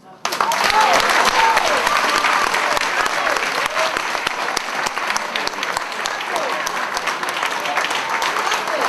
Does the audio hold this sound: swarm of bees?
no